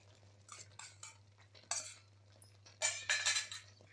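Paneer pieces tipped into cooking gravy in a pan, a few soft clinks and scrapes of a spoon against the metal pan in short bursts, with a steady low hum underneath.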